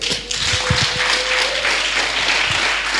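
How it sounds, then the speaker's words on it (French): Church congregation applauding and cheering in praise, a dense continuous wash of clapping filling the room, with a sustained sung or shouted tone and a few low thumps underneath. "Alors, si tu crois, acclame-toi fort le Seigneur."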